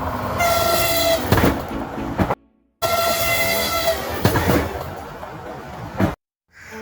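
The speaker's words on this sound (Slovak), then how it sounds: "Už ide vlak." A train rumbles past on railway tracks nearby, loud and continuous, with rhythmic clattering of wheels over rail joints; two passages of noise are broken by short silences.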